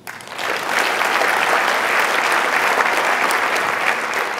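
An audience at a career development conference's opening session breaks into sustained applause, a dense, loud wash of many hands clapping that swells in quickly and holds steady to the end, with no talking over it.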